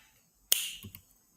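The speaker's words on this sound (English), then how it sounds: "And I snap my fingers." One crisp finger snap cracks out sharply up close, followed by a faint second tap in an otherwise quiet room.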